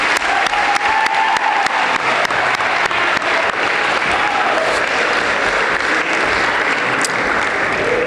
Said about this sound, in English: So a big round of applause to all those people I mentioned